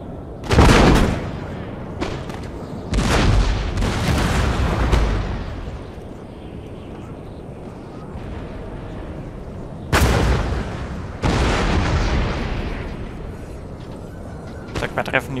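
Napoleon: Total War battle sounds: loud volleys of musket and artillery fire crack and boom in separated bursts, each trailing into rumbling echoes, while someone talks between the volleys.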